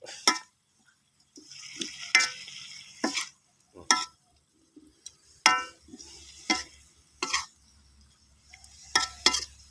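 Spicy bird meat being stir-fried in a pan: intermittent scraping stirs and short bursts of sizzling, close up, separated by quiet gaps.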